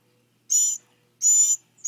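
A hungry baby bluebird calls while being hand-fed, giving two loud shrill raspy chirps about half a second apart, followed by the start of a third, close up with silence in between.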